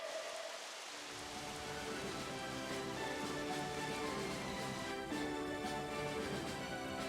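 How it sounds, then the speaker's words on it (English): Steady rain falls in the video game Indivisible, a soft continuous patter of drops on surfaces that swells in after a quiet opening second, with a faint low rumble beneath and no talking. "this might be magically purifying rain"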